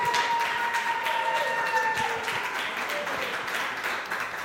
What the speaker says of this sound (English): Please, big round of applause.